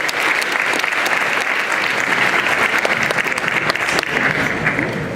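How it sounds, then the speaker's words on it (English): Audience applause for the PHS high school band at a 2018 veterans assembly; a full, steady round of clapping from a large crowd, continuous for about five seconds, with scattered sharper claps standing out. "Nice round of applause for the PHS band under the direction of Mr."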